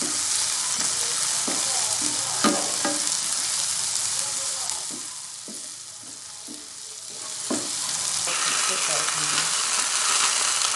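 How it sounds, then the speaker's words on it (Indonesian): Eggplant sizzling and frying in a pan while being sautéed, a steady close hiss with occasional stirring scrapes and clicks throughout. "Tumis sampai harum kayak gini."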